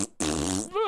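A voice imitates the farting noise of a 3D printer, one sustained buzzing raspy tone that trails into a rising voiced sound, brief and fairly quiet.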